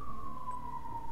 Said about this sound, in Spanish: Creo que está pasando una ambulancia ahorita.